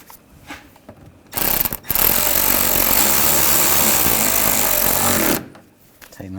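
A power tool tightens a screw on the upper grille of a 2009-2010 BMW 535i xDrive, a loud rattling ratchet-like buzz lasting about four seconds, preceded by a brief burst and quiet handling noises.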